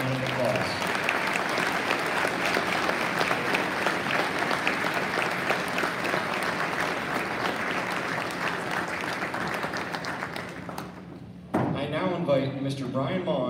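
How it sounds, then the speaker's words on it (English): Sustained, loud audience applause at a school Veterans Day program, dense clapping for about eleven seconds before fading, followed by a brief thump and a voice speaking. "Please join me for a round of applause"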